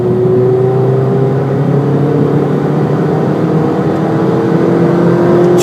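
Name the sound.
Ford Fiesta ST engine accelerating in fifth gear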